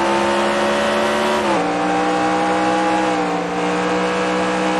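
Helmet-cam view of a race car lapping Sonoma: a loud, steady engine drone close up, its pitch dropping sharply once at a downshift and again more gradually later.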